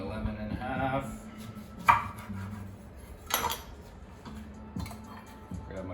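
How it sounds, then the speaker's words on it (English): A knife slices a lemon in half in a home kitchen, giving a few sharp cutting taps on a board amid light clatter of dishes and utensils, close and moderately loud. "So, cut my lemon in half."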